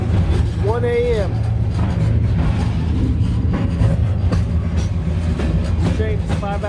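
Freight train rolling on wet rails at night in rain, a steady low rumble of cars running continuously throughout, with faint squeals over it and a voice talking at moments.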